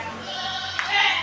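Etawa goats, young males and females around six months old, bleat from a pen in a short, close burst of wavering cries.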